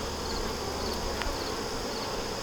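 Agitated honeybees swarm around a hive during an inspection, making a dense, continuous close buzzing drone with a high whine and no talk.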